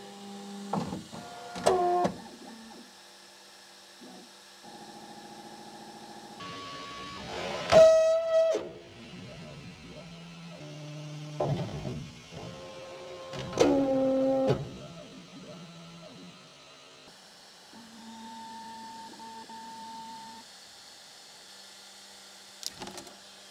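A Bambu X1C 3D printer runs its calibration sequence, with its stepper motors humming steady tones and rising and falling sweeps, and bursts of louder whirring between pauses, heard close with no talk.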